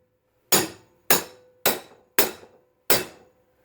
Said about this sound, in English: tap it a few times to stretch the spring